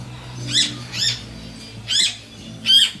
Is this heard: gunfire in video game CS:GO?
no